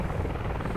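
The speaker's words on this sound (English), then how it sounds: "Enemy helicopter is landing in the field." An enemy helicopter landing in a field in the video game Squad, a loud continuous rotor thrum and engine whine filling the whole moment with no speech.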